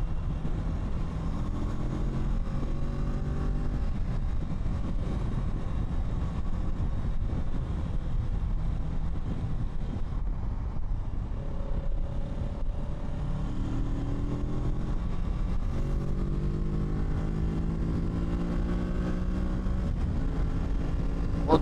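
A Kawasaki Z650 ABS motorcycle engine while riding gives a loud, continuous drone, with rising rev sweeps as the throttle opens, heard alone without talk.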